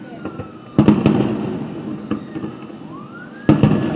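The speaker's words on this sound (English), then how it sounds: "I hear a fire truck coming, but I don't see it right now" A siren from a fire truck or fireboat wails faintly in the distance during a river fireworks show, its pitch sweeping upward, while sharp firework bangs burst loudly nearby at intervals.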